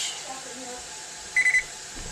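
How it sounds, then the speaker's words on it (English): A handy kitchen timer is set for a 60-minute home extract beer brew and gives three quick, bright electronic beeps in a row over a quiet room hum. "Then I'm going to set my handy dandy timer"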